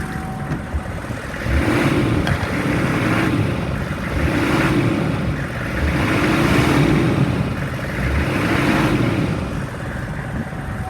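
A 2002 Hummer H1 with a 6.5 liter diesel engine, warmed up and idling, revved several times in rhythmic swells of rising then falling rumble, close and loud, with no talking.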